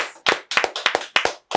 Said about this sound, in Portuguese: Senhoras e senhores, Thiago Silva, uma salva de palmas.